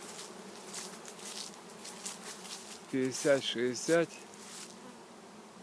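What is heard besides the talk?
honey bees around drying honeycomb frames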